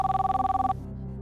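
A telephone rings on an outgoing call, a short burst of rapid electronic ringing that stops abruptly, followed by quiet line hiss.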